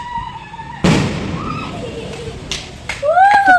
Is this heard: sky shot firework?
yes